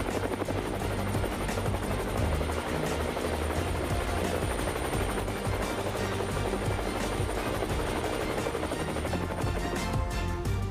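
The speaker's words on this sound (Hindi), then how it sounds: "और अब मैं मौजूद हूँ लाइट कॉम्बैट हेलीकॉप्टर के पास।" HAL Light Combat Helicopter heard up close, its rotor and turbine roar loud and steady for the whole stretch with no talk over it.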